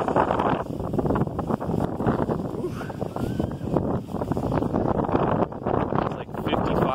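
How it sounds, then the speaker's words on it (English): Steady wind roars and buffets the microphone throughout at Omaha's Henry Doorly Zoo, with a person talking underneath the gusty rumble. "it's super breezy. You know, I'll just say it's windy."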